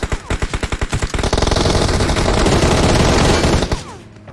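Automatic gunfire from a PUBG-style battle royale shooter: rapid, evenly spaced loud shots speed up into a dense continuous burst, then cut off sharply.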